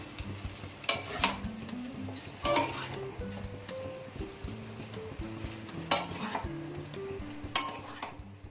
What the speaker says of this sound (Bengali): জাস্ট হালকা ভাজা ভাজা হবে নামিয়ে নেবো